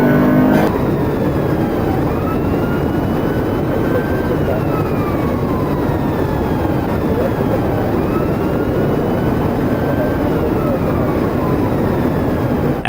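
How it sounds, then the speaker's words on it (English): Car tearing through traffic at over 110 mph, a loud, continuous roar of engine and road noise that keeps up for the whole stretch, with passing-vehicle sweeps rising and falling throughout. "Rojas hit the gas even harder, tearing through traffic at over 110 miles per hour"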